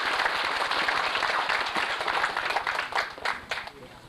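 Applause from a crowd at a party launch rally, sustained and fairly loud clapping throughout with a slight swell and fade toward the end.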